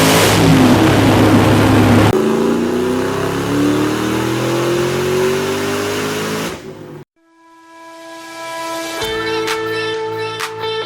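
A 2003 Ford SVT Cobra with a TMP intake revs hard on a dyno, the engine note climbing loudly for several seconds before cutting off abruptly, then a whirring wind-down with tonal whine as the rollers slow.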